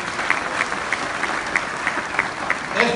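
Warm applause fills a hall at an international municipal conference, a loud, continuous crowd clapping with a few brighter claps recurring at a steady pace and faint voices mixed in.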